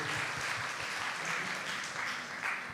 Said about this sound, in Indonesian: kita beri tepuk tangan dong buat adik kecil kita ya Bapak Ibu